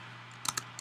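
Code is typed on a computer keyboard: a few quick, crisp key clicks in a short burst over a steady low background hum.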